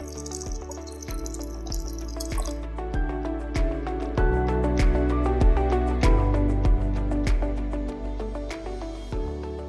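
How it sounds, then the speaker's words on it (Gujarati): Water pours and drips into bitter gourd bhajiya batter in a bowl while it is mixed, giving steady wet squishing with a rhythmic series of soft knocks, close and moderately loud. "હવે આપણે પાણી જરૂર મુજબ પાણી"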